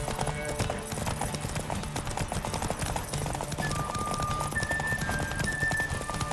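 Steady rhythmic hoofbeats of a galloping horse in the video game The Witcher 3, loud and close, continuing without a break.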